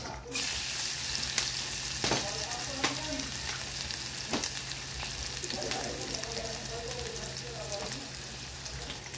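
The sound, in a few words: garlic sautéing in cooking oil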